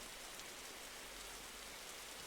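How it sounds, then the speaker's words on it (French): Soft, steady rain hisses evenly in a forest survival video game, a faint continuous patter with no voices. "Il commence à pleuvoir."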